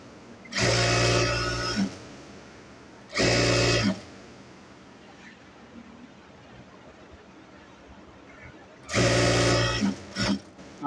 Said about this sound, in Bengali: এখন আমরা মাঝখান দিয়ে আরেকটা সেলাই দেবো।